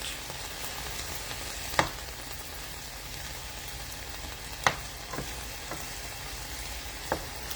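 Beef stir-fry sizzles steadily in a pan, a soft, continuous hiss broken by a few sharp clicks as the pieces are turned, close and without talk.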